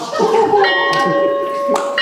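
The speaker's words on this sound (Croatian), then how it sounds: "Zvonilo, idemo na čas!" An electric school bell rings during a school-day stage play, a steady sustained metallic ring heard clearly over room noise and voices.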